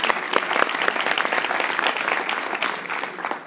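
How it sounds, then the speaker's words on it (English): Dense, loud applause from an audience at a university gathering, many hands clapping in a sustained wash with crisp individual claps, steady from start to finish. "You all deserve a round of applause."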